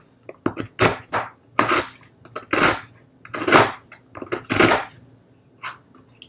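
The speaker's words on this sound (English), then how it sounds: "I'll just use a knife and shape it a bit, so it's going to be easier for me to mix it together" Knife scraping and tapping a block of palm sugar on a board in a kitchen, irregular bursts of crunchy cuts and scrapes close up, about a dozen strokes with short gaps.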